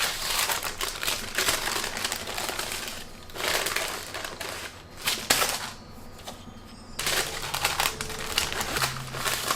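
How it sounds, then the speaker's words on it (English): Baking paper crinkling as a Swiss roll sponge is rolled up, in bursts of loud rustling and crackling separated by short quieter pauses, close to the microphone with no talking. "The baking paper."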